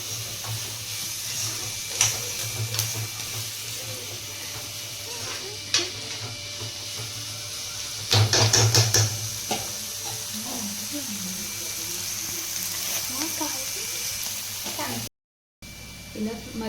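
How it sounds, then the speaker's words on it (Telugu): Vegetables frying for egg fried rice sizzle and hiss steadily in a pan, with scraping stirs and a clatter of utensil strikes partway through, under intermittent talk. "ఇవైతే కొంచెం ఫ్రై అవ్వాలి."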